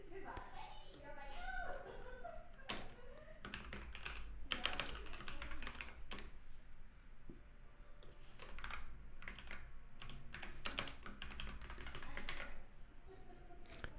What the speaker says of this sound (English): I'm using the mechanical keyboard I won at Dub on the Revenue Cat pinball tournament